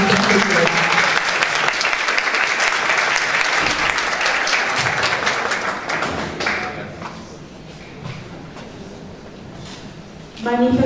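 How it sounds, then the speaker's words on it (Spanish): An audience at a university book presentation applauds the professors with dense, sustained clapping that gradually thins out and tapers off, before a voice begins speaking at the very end. "Último aplauso entonces para nuestros profesores."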